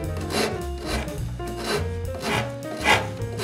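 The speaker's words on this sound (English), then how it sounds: "we're going to take the rasp and just finish it done" A wood rasp files a roundover edge on a wooden paper towel rack, with steady back-and-forth rubbing strokes, close and loud, in a repeating rhythm with no talking.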